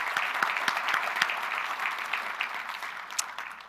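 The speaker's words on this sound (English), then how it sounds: "let's give him another round of applause" Sustained applause from an audience at an awards ceremony session, steady clapping at moderate loudness throughout, with a few sharper claps standing out.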